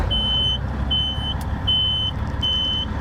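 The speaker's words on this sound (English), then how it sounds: "that fucking beeping noise is the air building up" A truck's warning beeper sounds four evenly spaced beeps while air pressure builds in the trailers, over a steady low engine idle, with no talking.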